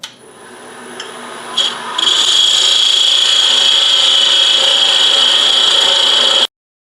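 A wooden spin top being turned on a lathe, a cutting tool scraping the spinning wood with a steady loud rasp that starts after a few brief touches and then cuts off abruptly.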